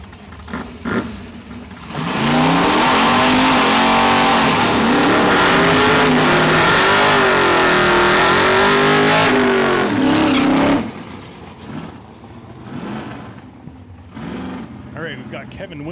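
A Dodge Charger and a Plymouth Belvedere launch side by side at a drag strip test-and-tune session, their engines roaring loud and close with rising, shifting pitch for about nine seconds before fading, while an announcer talks.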